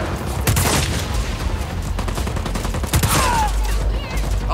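Turret gunfire in the video game Just Cause 4, with a dense, sustained burst of rapid shots and booms, loud and continuous throughout.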